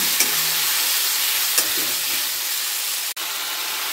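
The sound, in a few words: stirring and frying spice masala for chicken curry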